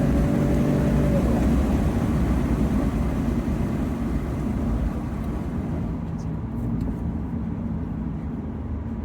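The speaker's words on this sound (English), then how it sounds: "you can't beat that V12 soundtrack. Even on standard form, it sounds nice." A V12 Aston Martin, a salvage car, accelerates hard during a launch, its engine giving a steady, loud, broad roar that eases slightly and holds on as the car pulls away.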